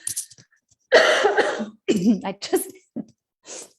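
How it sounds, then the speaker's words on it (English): A person coughs several times in short, harsh bursts, close and fairly loud, with brief pauses between them. "I'm going to cough again."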